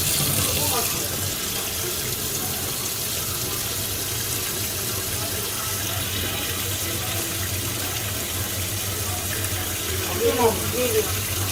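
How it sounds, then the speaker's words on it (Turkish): Hot water runs steadily from a household tap fed by a combi boiler, a constant close, loud rushing flow throughout, with a brief voice near the end. "sıcak suyunuzu bir açın"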